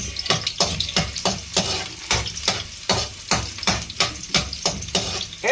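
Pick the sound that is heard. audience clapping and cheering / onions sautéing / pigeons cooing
onions sautéing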